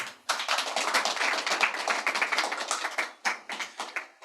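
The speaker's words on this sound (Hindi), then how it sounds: "एक बार अपने लिए तालियां बजा लें" Applause from a poetry reading audience, dense overlapping hand claps rising sharply, sustained for about three seconds, then briefly dipping and returning in a few scattered bursts.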